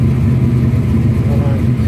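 Tuned 1967 Chevrolet Camaro with a 383 V8 running nearby, a loud, deep rumbling idle with a steady throb throughout, a person speaking over it.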